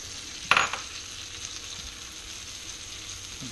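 Eggs and avocado stirred in a hot pan for a loose omelet, a soft steady sizzle with a sharp scrape of the utensil early on, then a quieter continuous frying hiss.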